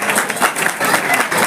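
Loud applause from a crowd at an award ceremony as a girl receives a prize, a brief burst of dense clapping with a slight swell and dip in intensity.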